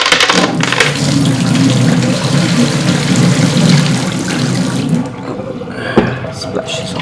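Water from a fish tank pours into a sink in a loud, continuous gushing rush for about five seconds, then tapers into lighter splashes and drips.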